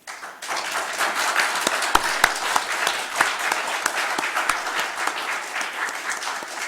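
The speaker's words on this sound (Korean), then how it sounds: "그러면 오늘의 연사이신 안경화 교수님을 큰 박수로 모시겠습니다." An audience at a literary forum lecture applauds warmly to welcome the guest speaker to the podium, a full, sustained wash of many hands clapping with a few sharper individual claps popping out, rising quickly and holding steady.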